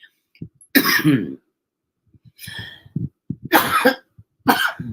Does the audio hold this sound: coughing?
yes